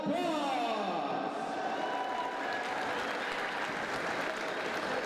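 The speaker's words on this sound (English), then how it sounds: "Basketball fans, let's have them a round of applause." A basketball arena crowd at a Filoil EcoOil Preseason Cup game between UP and DLSU breaks into loud, sustained applause with scattered cheers. A voice is heard over the opening moments.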